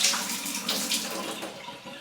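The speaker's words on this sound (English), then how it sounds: "Drain all the water out." Water draining and splashing out of a jar of freshly rinsed broccoli sprouting seeds, a steady close trickling wash with small bursts, alone without voices.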